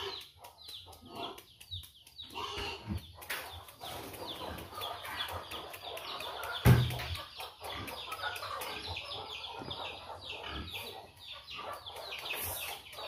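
Pet chickens being fed on a farm cluck and peck in a steady busy chatter, close and moderately quiet, with scattered clicks and rustles throughout.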